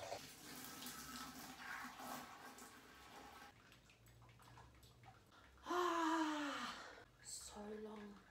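Water runs into a brewing vessel for the sparge during a Grainfather weissbier brew day, with a steady pour and a louder gush late in the clip.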